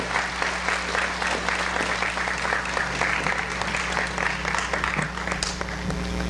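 An awards ceremony audience applauds students with dense, steady clapping that carries evenly throughout, with no speech over it.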